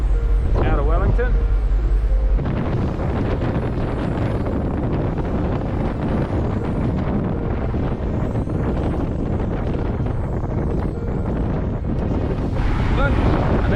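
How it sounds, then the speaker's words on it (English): Wind buffets the open deck of the Blue Ridge Ferry heading out of Wellington, a steady loud roar and rumble of gusts on the microphone with the drone of the vessel beneath, running throughout. "Sort of sheltered behind the structure here, but it's still pretty windy and"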